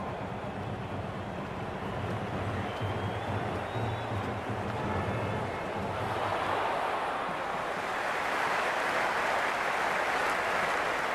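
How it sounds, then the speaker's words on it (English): Cricket stadium crowd at an IPL match, a broad continuous roar of cheering spectators that swells louder toward the end, distant and washing like surf, with no voices picked out. "The crowd is electric right now."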